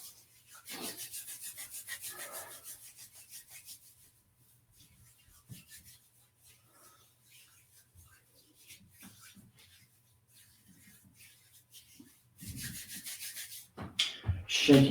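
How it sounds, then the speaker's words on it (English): Hands rubbed together briskly during a qigong-style exercise session: soft, close rasping friction in bursts separated by quiet gaps, faint overall, ending with a few louder rustles. "we're going to start off by rubbing our hands together"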